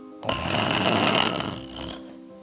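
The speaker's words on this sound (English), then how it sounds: "And he snored." One long, rattling snore, loud and close, lasting under two seconds.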